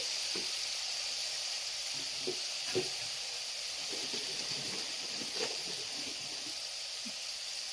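Peanuts fry in a pan for a ridge gourd curry, giving a steady broadband sizzle with scattered soft crackles and pops throughout, close and moderately loud, with no one speaking.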